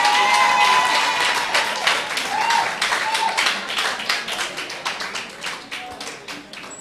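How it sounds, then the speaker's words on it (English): Audience applause at a university induction ceremony, a dense burst of many hands clapping that starts loud and slowly thins out across several seconds, with no voices over it. "and now you can clap"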